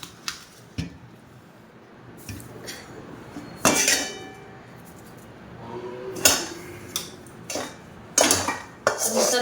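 Metal utensils clink and clatter sharply in a series of bright hits while fried masala is tipped and stirred into thin poha chivda, with quieter scraping between the louder knocks.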